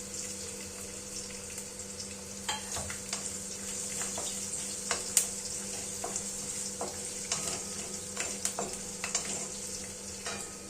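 Garlic cloves and chopped ginger frying in oil in a pan for chili potato, a soft continuous sizzle with sharp crackles, pops and occasional stirring scrapes, fairly quiet and without talk.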